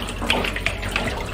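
Water running from a tap while potatoes are washed, a close steady splashing stream with small bursts of spray, no voices.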